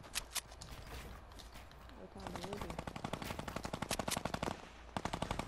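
Rapid automatic gunfire in a Fortnite battle royale duo match, dense bursts of near, fairly loud shots after a few isolated ones, while players talk over the action.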